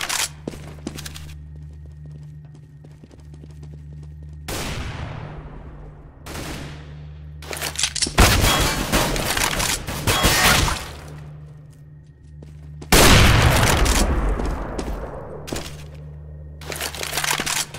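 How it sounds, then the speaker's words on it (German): A grenade goes off during a Counter-Strike: Global Offensive match, loud booming blasts mixed with bursts of rifle fire and footsteps, the explosions cutting in sharply amid ongoing gunfire. "I'm throwing a grenade."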